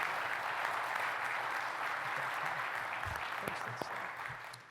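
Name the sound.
audience applauding the staff at an award event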